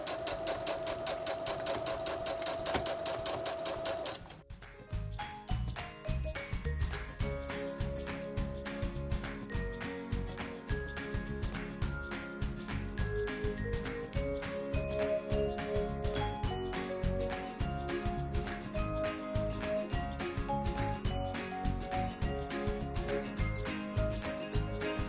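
A sewing machine stitches a ruffle onto the skirt of a dog dress. A brief quieter hum gives way to a fast, steady mechanical chatter of needle strokes that runs close and continuous for the rest of the clip.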